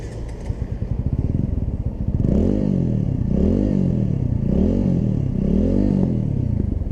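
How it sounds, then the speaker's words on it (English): A motorcycle exhaust note rises from a lumpy idle into several strong revving bursts that swell and fall in a steady rhythm, loud and close, with no voices over it. "let's just go ahead and hear the exhaust note."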